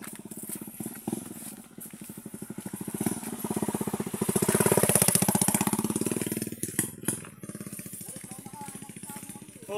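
A motorcycle engine runs close by with a rapid, rough pulsing beat, revving up to a louder peak in the middle and then easing off, with a few brief voices heard toward the end.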